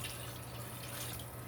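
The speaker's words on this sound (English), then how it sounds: "And so now I'm going to add 7 cups of cold water," Cold water is poured from a tap into a soup pot of sautéed vegetables and chicken, a steady, soft rushing stream close by with no talk.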